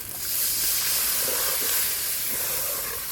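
Water hits hot oil and fried masala in a pan while Kashmiri aloo dum is being cooked. A loud, sharp hiss and sizzle bursts up at once and holds steady, close and continuous, with no talking.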